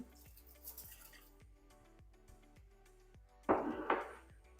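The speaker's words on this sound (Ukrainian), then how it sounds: "додаю трошечки води" Slow, quiet drips fall one by one, then a brief splashing pour of a little water lands close by in a baking dish with a rack.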